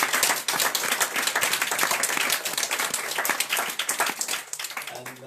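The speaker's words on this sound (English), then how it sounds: "let's give a round of applause for our speakers" A café discussion audience applauds the speakers with steady, dense clapping from many hands. It is loud and close and holds for several seconds before easing off slightly near the end.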